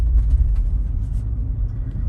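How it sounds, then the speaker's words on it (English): A Tesla Model Y with a flat tire, its traction control pumping the brake during a slip start, heard as a low, pulsing rumble with faint clicks over the vehicle's drone, close and steady. "That's the traction control here, pumping that brake."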